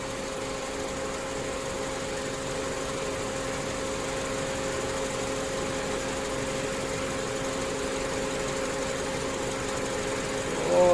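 A car's radiator fan whirs over the engine idling during a coolant bleed, a steady mid-level drone that holds even throughout and swells slightly at the very end.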